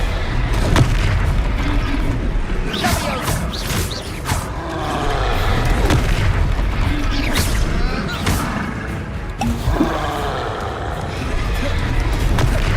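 Confringo fire spell explosions in the Hogwarts Legacy video game, loud booming blasts and crackling bursts repeating over a dense, continuous battle soundscape, with a player's voice talking over the game sound.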